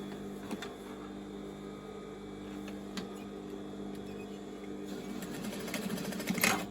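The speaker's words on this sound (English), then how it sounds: "The last thing to sew on the bag, guys, is to stitch this bottom opening where it was bagged out." A sewing machine stitches shut the bottom opening of a large, secure shopping bag, giving a steady, close motor whir with a fine mechanical ticking that grows louder and busier near the end.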